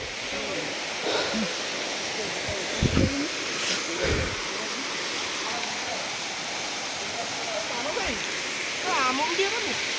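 Waterfall water pours down at Sitakund in a constant broadband roar that fills the scene, with faint human voices and a few brief knocks underneath.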